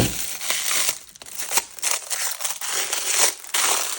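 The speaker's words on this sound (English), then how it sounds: "They come really tight in here. They're all wrapped up in cellophane." Cellophane wrapping being pulled off tightly packed rolls, a loud, close, continuous crinkling and crackling with brief dips and renewed bursts, no talking.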